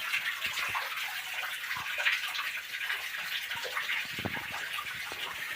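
Water flows and splashes inside a cave, a steady gushing rush with small gurgles, moderately close and with no talk.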